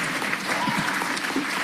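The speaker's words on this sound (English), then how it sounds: "Let's keep the clapping down." An audience at an Atlanta city council meeting claps briefly, a dense burst of applause from a roomful of people heard at moderate distance.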